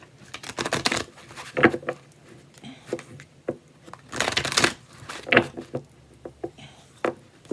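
Thoth tarot cards being shuffled and pulled, a run of papery riffles and flicks in uneven bursts, fairly close and moderately loud, with brief pauses between handling sounds.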